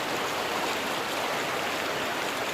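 Creek water rushes past at a waist-deep crossing on a hike toward a waterfall, a loud, unbroken broadband roar with no talk or gaps.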